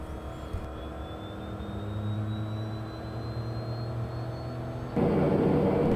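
A Piper Meridian P46T turboprop runs on the ground before takeoff, a steady engine drone with a thin rising whine, ending in a louder broadband rush near the close.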